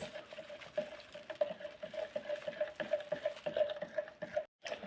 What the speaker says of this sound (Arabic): هنضيف 100 جرام اوكزاليك اسيد ونقلبه كويس